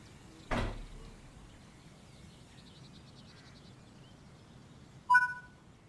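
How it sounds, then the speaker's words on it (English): Passenger doors on a Zwolle–Groningen line train in Train Sim World 5 release with a single pneumatic thump and hiss, followed by a faint whirr and a quick sharp two-tone beep near the end. "Open the passenger doors to allow boarding."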